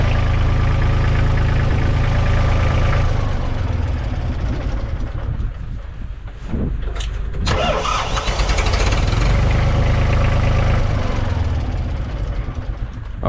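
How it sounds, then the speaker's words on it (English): A Thwaites 2 ton dumper's engine, fitted with a new radiator, runs loudly and close by with a steady low rumble, briefly dipping and faltering midway before picking back up into a continuous idle. "it runs, the main thing, I suppose."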